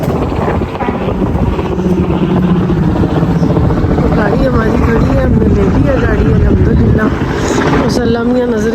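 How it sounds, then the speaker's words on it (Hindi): Helicopter rotor and engine noise passing overhead near Ontario Place, a loud steady droning throb with shifting pitch that persists throughout, while people talk beneath it. "वो हेलीकॉप्टर जा रहे हैं ऊपर।"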